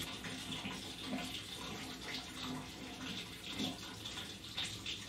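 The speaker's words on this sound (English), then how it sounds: "Water's on." Shower water running from a tap in a bathroom, a steady broadband rush that stays constant and moderately loud throughout, with no talking over it.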